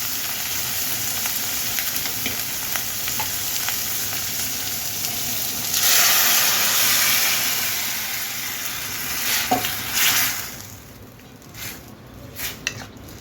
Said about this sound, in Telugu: ఇప్పుడు మనం స్మాష్ చేసుకున్న టమాటా పచ్చడిని, టమాటా మిశ్రమాన్ని మనం వేసేసుకుందాం ఇందులో